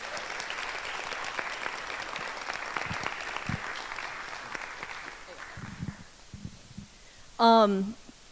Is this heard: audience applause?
yes